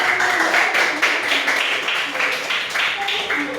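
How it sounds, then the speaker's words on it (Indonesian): Children in a primary school classroom clap for a classmate, a dense, steady patter of many small hands filling the room at moderate volume, with young voices and chatter mixed in underneath. "Tepuk tangan untuk Bertonia"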